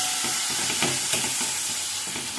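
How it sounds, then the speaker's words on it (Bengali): Chicken pieces, dried after soaking in vinegar, stirred and fried in oil and ghee for palak chicken, giving a steady close sizzle with repeated scraping stirs throughout. "তাও ভালো করে কষবো, যতক্ষণ না তেল ছাড়ে আমি কষবো।"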